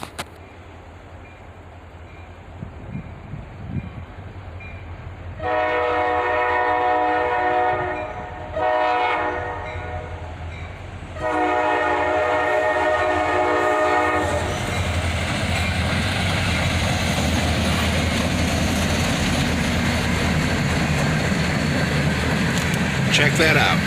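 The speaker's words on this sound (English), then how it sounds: "Check that out, an ex-Conrail Sd50-3 leads, followed by an Sd50-3, originally built for the Seaboard system." Freight train led by an ex-Conrail SD50-3 locomotive passing a road crossing, with loud sustained horn blasts broken by pauses, then a steady rumble of passing cars and some talk underneath.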